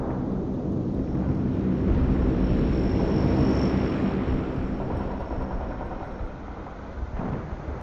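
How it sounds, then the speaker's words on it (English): A cargo plane in the video game World in Conflict flies in from the distance, a loud sustained engine roar that swells and then slowly fades, with no talking. "I order the cargo plane to drop my stuff on my drop zone."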